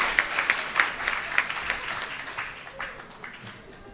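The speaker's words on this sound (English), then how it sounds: "at this point, you clap me again" Audience clapping at a training program launch, a short round of scattered claps with a few sharp hits at the start that thins out and fades over four seconds.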